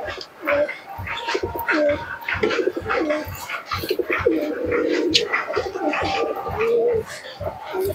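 Desi giribaz pigeons coo repeatedly nearby in soft, throaty, rolling phrases, with a person talking over them.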